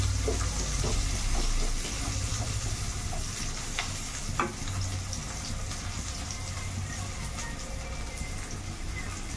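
Onion and cumin frying in a pan for an Odia pumpkin greens dish, a soft continuous sizzle with occasional stirring scrapes and clicks.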